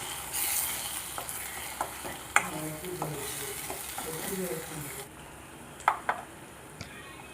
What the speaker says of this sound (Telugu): ధనియాలను వేయించి